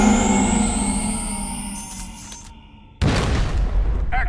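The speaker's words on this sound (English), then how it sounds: "Here's the big one. Proton cannon." In Marvel vs Capcom, Iron Man's proton cannon fires with a long sustained energy roar that fades, then a sudden loud booming blast bursts out and rumbles on.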